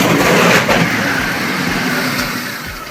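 A 28-cylinder, 71.7-liter R-4360 piston aircraft engine running with a loud, steady, close roar that eases slightly toward the end.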